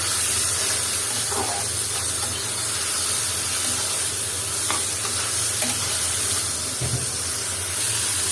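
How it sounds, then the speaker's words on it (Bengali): Prawns fry lightly with onion and salt in a pan, a continuous close hiss and sizzle with occasional soft scrapes and knocks as they are stirred. "আর পেঁয়াজের সাথে মাছগুলো আমি এভাবে করে নিব, হালকা ভেজে নিব।"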